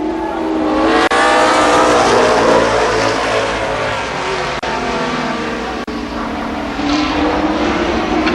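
A pack of ARCA Supercars race cars roars off the start at a speedway, loud overlapping engines accelerating together in a dense, sustained wall of sound.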